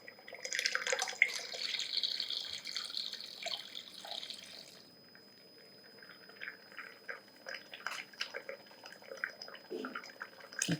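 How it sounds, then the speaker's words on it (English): A homogenizer whirs while mixing rose water into a homemade foaming face wash, a bright, hissing churn for several seconds that then drops to quieter liquid swishing and small clicks. "So I'm going to start the homogenizer."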